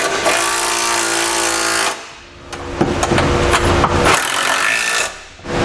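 A power tool tightens trailer hitch hardware on a 2015 Subaru, a loud steady whir for about two seconds, then a pause and another burst with rattling clicks.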